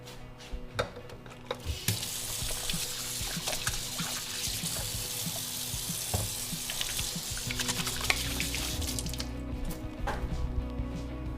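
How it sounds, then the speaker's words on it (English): Hands washed under a running kitchen tap, a broad steady rush of water with splashes and rubbing that lasts about seven seconds before the flow stops and quieter kitchen sounds remain. "Wash my hands real quick."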